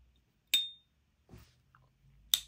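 An S.T. Dupont Ligne 2 cigar lighter in silver palladium gives two bright metallic pings as its lid flicks open, each sharp and ringing, separated by a soft dull click in between.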